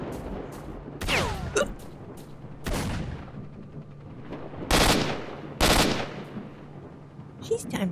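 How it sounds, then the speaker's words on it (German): Gunfire in STALKER: Shadow of Chernobyl comes as scattered loud shots and short bursts, some close and cracking, others duller, spread across the moment over a low ambient hum. "Schießt der einfach auf mich?"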